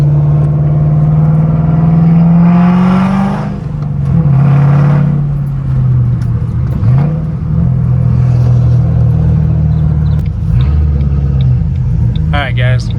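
A Ford Mustang GT with a clutch that does not disengage properly pulls away from a stop, its engine rumbling loud and close. Revs climb and dip as it takes off, and someone talks over the engine noise.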